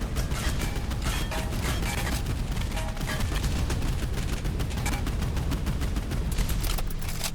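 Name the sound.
37mm cannon firing in a video game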